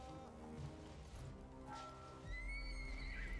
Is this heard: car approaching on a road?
no